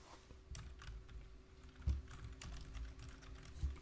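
Keystrokes clatter on a computer keyboard in quick irregular bursts, close and fairly quiet, with a few louder taps standing out and no voices.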